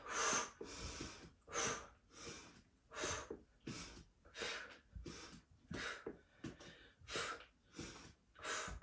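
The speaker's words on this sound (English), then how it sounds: "Make an exhale noise, like as you breathe out, so you know that you're actually breathing out when you should." Forceful breathing during a core stability workout, with about a dozen sharp, breathy exhales in a steady rhythm roughly every second, fairly close and alone.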